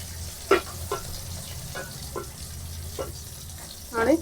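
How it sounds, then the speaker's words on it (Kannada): Green chillies fry in oil with a soft, steady sizzle close by, punctuated by a handful of sharp spoon clinks and scrapes spaced irregularly, with no talking. "ಮೆಣಸಿನ್ಕಾಯಿ ಚೆನ್ನಾಗಿ ಫ್ರೈ ಆಗಿದೆ"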